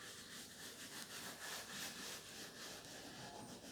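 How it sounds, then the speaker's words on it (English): A brush gently working shampoo into upholstery in soft circular motions, giving a faint, close, continuous scratchy rubbing with a loose rhythmic swell, no voices. "You allow that to dwell and then you lightly agitate it in with circular motions all over the upholstery."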